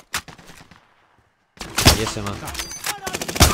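Gunfire from the PC battle royale game Warzone: sharp shots and rapid bursts crack loudly after a short lull, while a player speaks briefly over the shooting.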